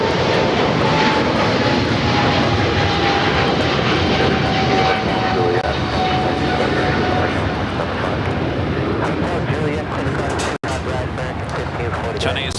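A China Eastern Airlines Boeing 777-300ER bound for Shanghai roars past at LAX with a loud, sustained engine rumble and a faint falling whine, while people talk over it.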